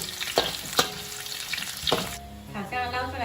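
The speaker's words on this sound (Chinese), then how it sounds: "我们来热锅起油，把料头放进来炒香" Ginger slices and scallion whites stir-fry in warm oil in a wok, a continuous crackling sizzle punctuated by a few sharp spatula clacks against the pan.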